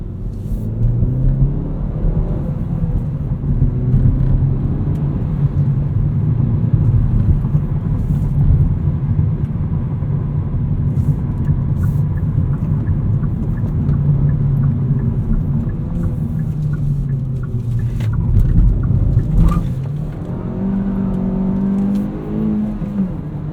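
A 2019 Hyundai Elantra GT N Line with a six-speed manual is driven from inside the cabin, its engine and exhaust giving a steady low rumble and whir that rises and falls with revs and gear changes throughout.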